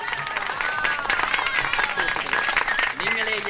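Audience applause at a live stage show, a continuous crowd clapping texture that stays fairly loud throughout while a voice talks over it.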